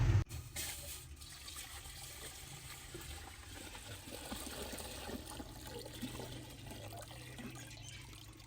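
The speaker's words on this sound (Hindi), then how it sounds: "पानी डालते हैं।" Water pours steadily from a tap into a pot set on a stove for boiling white rice, a continuous close trickle and splash with no talking.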